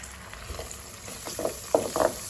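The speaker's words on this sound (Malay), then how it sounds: "Dan terus masukkan margarin tadi." Margarine added to melted sugar in a pan on a gas stove with the flame switched off, giving a few close, soft sizzling and crackling bursts that grow louder toward the end.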